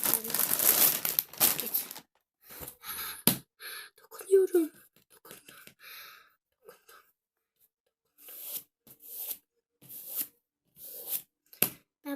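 Crinkly plastic packaging of pens bought from Temu being torn and opened, with bursts of sharp crumpling and ripping between pauses, close up; a voice is heard briefly.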